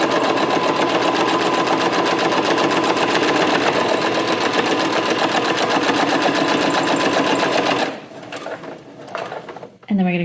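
Sewing machine stitching a seam along puff quilt fabric, a loud, steady rapid mechanical chatter under speech for about eight seconds, then stopping, followed by scattered clunks and handling noises.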